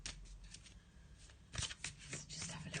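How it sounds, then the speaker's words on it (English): A black and white Faulkner tarot deck being shuffled by hand, giving close, soft papery riffles and flicks in quick bursts, growing busier toward the end. "having a little shuffle of the black and white Faulkner deck"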